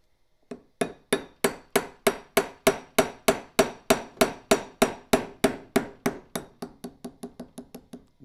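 Hammer driving a small steel punch against a pin to knock it out of a motor gear, about two dozen sharp metallic strikes in a steady rhythm that turn slightly duller and quicker toward the end, with no voices.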